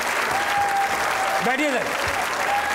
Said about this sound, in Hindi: कैसे तालियां बजती रहनी चाहिए